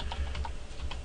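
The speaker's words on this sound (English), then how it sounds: "then we're going to type in these routes" Quick, close keystrokes on a computer keyboard while entering router configuration commands, a rapid irregular clatter of light clicks over a low background hum.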